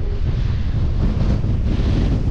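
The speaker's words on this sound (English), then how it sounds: "Yes, crazy windy today." Strong wind roaring at a shore break beach in Safi, Morocco, a dense low rumble of microphone buffeting and surf, loud and unbroken for the whole moment.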